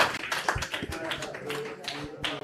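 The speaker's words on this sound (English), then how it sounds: "Please give a round of applause for Ian Hales, MP." A crowd applauds with scattered claps at moderate volume, and a voice speaks over it.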